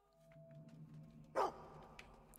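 A puppy in Fable II gives a single short, sharp bark, fairly close, against quiet background hum.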